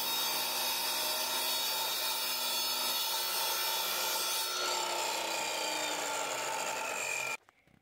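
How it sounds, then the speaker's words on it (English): Hardwood blocks being sawn down to 40 by 40 millimetres, a loud, steady grinding rasp that shifts slightly in pitch as the cut progresses and stops abruptly near the end. "I cut some hardwood down to 40 by 40 millimeters"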